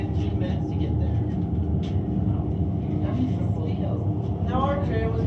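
An aerial tram car at Sandia Peak climbs at about 13 miles per hour on a 2.7-mile ride up the mountain. Its steady low mechanical rumble runs throughout, with someone talking over it.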